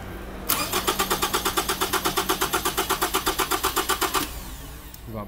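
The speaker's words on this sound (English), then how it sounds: "And then we're gonna have them crank it again." A car engine cranked by the starter during a starter voltage drop test, a rapid even whirring chug of about thirty beats over nearly four seconds that stops without catching, loud and close, no talking.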